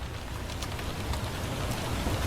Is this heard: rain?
yes